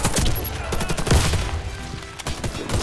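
Galil AR rifle gunfire in the video game Warface, rapid bursts of shots with thuds, loud and close, filling the stretch.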